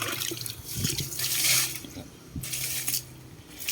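Liquid frog-dung fertilizer poured out for lime trees, a splashing, trickling stream in short bursts with brief gaps, close and moderately faint.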